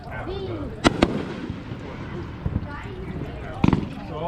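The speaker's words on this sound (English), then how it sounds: "so all the fireworks go off." Fireworks going off in Southern View, Illinois: several sharp, distant bangs, a pair early on, a softer one midway and a cluster near the end, heard over continuous talking.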